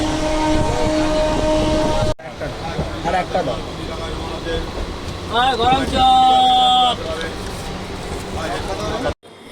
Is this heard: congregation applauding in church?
no